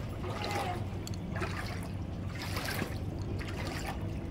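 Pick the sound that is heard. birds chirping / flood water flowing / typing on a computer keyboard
flood water flowing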